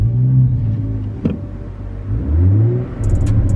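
A BMW F30 with a Stage 1 MHD tune starts up, its engine catching and settling into a loud, close idle with a rising rev partway through and faint higher whirring near the end.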